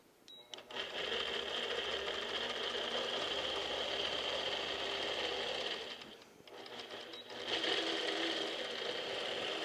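A longarm quilting machine stitches a pantograph pattern in a steady, fast mechanical whir with rapid needle rhythm, close and continuous, briefly easing around the middle before picking back up.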